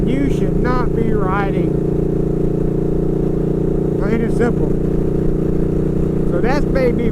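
A motorcycle cruises along rural back roads, its engine humming in a loud, steady drone while someone talks over it in several short bursts.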